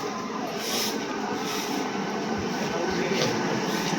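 A train pulls into a station, a steady low rumble and rolling clatter heard close by with a faint high squeal above, continuing evenly throughout.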